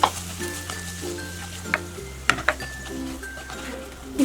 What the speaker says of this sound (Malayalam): ഈ എണ്ണയിലേക്ക് നമ്മൾ ഈ അരിഞ്ഞു വെച്ചിരിക്കുന്ന സവാള ഇട്ട് വഴറ്റി കൊടുക്കാം